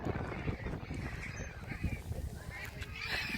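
Young goslings honking beside water, their calls blending with the cries of ducks and geese in a busy, steady chorus of fowl sounds with no talk.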